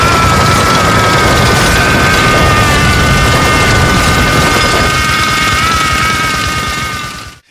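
Powerful video-game gunfire sound effect, a loud, dense roar of sustained automatic fire with heavy booming low end and a ringing whine, running steadily for several seconds before cutting off.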